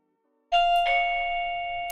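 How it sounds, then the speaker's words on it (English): A house doorbell chimes two ringing tones in quick succession, the second note sustaining and slowly fading, clear and close after a moment of silence. "there goes my doorbell"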